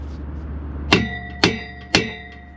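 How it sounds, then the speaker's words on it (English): A hammer strikes a stuck metal part three times at an even pace, each blow a loud, close, ringing clang that decays over a steady background hum. "grab a hammer"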